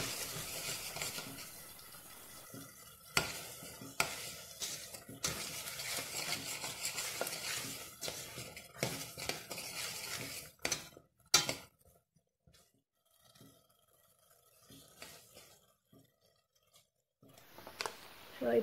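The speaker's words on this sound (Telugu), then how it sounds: "యాడ్ చేసిన తర్వాత కలుపుకొని మళ్ళీ అది మగ్గే వరకు కొంచెం సేపు సిమ్లో పెట్టుకోవాలి" Eggplant curry (baingan bharta) is stirred in a pan, with scraping, tapping spoon strokes and a light sizzle, busy for about eleven seconds before fading to sparse clicks, with someone talking at times.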